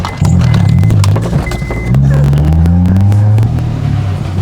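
A Honda Civic engine catching after a push start with a dead battery: a loud, close engine note rises and settles into a steady running hum with a few pitch shifts, with light knocks and rustle around it.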